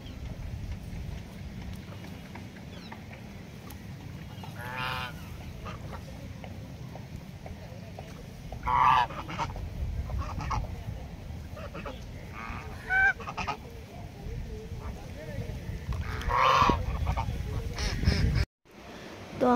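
Ducks or geese honking near a resort pond, with a few loud, brief bursts rising over steady outdoor background noise and faint voices.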